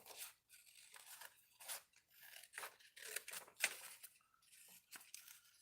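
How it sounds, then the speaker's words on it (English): Scissors cut a printed paper quote into a rounded bubble shape for an art journal, making a series of faint, close snips and soft paper rustles in an uneven rhythm, with no talking. "I'm just going to kind of cut this as a bubble."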